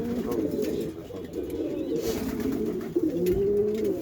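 Pigeons coo close by in a low, continuous murmur of overlapping calls.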